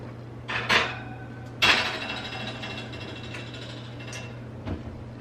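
A restored old cast iron cornbread stick pan is set upside down into an oven: two sharp metallic clanks near the start, then faint scraping and a softer knock over a steady low hum.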